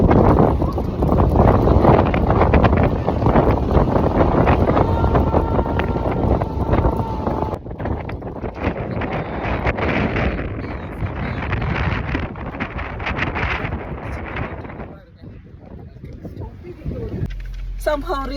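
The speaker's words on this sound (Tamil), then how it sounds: "ஐயோ இங்கே இல்லை, பயங்கர காற்று" Strong wind during a windstorm in the UAE, buffeting the microphone with loud roaring gusts, while a person speaks over it for much of the time.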